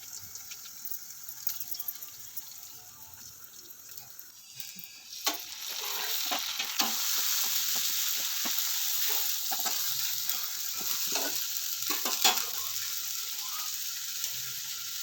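Steady sizzling of onion and tomato frying in a pan, with occasional stirring clatter and scraping; constant hiss, close and moderately loud, no talking.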